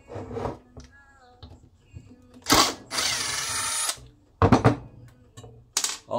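A power drill runs in several short bursts, driving screws out of a Chinese chainsaw crankcase, with pauses and small handling noises between the loud whirring spells.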